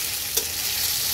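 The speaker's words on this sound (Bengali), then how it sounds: "তো চলো আগে পেঁয়াজটাকে হালকা একটু ভেজে নেই।" Chopped onion and garlic fry in a pan with a steady, close sizzle, and a brief stir clatters once partway through.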